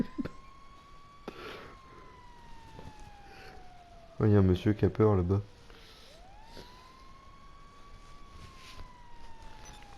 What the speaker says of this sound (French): c'est la première fois qu'il y a un camion de pompier qui passe par là